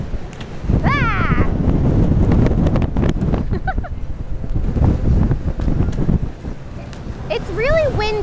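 Gusting wind roars and buffets the microphone throughout on a cruise stop in Cozumel, with people talking and shouting over it.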